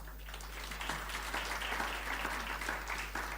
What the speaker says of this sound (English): We can welcome her with a clap.